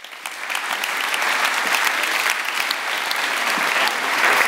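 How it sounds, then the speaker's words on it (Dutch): Warm, sustained applause from a theatre audience at a season presentation as the culture alderman is welcomed, starting softer and swelling into full, even clapping. "geef hem een hartelijk applaus"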